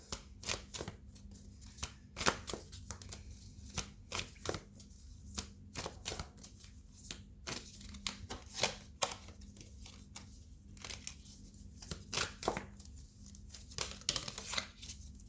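Tarot cards being shuffled by hand make rapid, repeated riffling and slapping bursts throughout, close and fairly quiet, with short gaps between shuffles and no speech.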